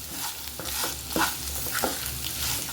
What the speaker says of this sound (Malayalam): ഉള്ളിയൊക്കെ നന്നായിട്ടൊന്ന് വഴന്നോട്ടെ.